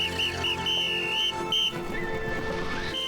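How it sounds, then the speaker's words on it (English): A cartoon whistle in an animated series blows several shrill, sustained tones, some wavering and some held, fairly close and clear with faint background sound. "Whistle."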